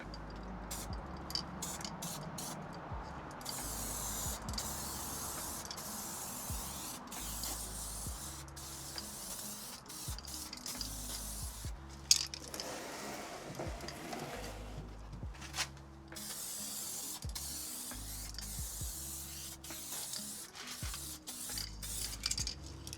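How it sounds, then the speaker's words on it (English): Spray paint hisses in repeated bursts of varying length, close by, with clicks of the can between sprays, laying a light first coat on a Harley-Davidson Sportster part. "Let's spray this thing. First coat will come in pretty light, just get a nice base."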